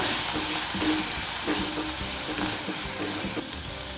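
Spiced mixture sizzling and frying in a pan as it is stirred, with steady close crackle and scraping strokes throughout, no voices.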